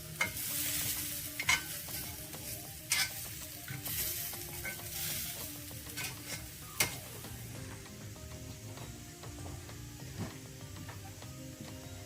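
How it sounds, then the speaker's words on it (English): Seared potatoes sizzle and crackle in a pan, with occasional sharp clacks of a utensil and a steady frying hiss that eases slightly later on, quiet and close with no talking. "Let's turn the heat on this guy a lot lower so these potatoes can actually soften up without burning"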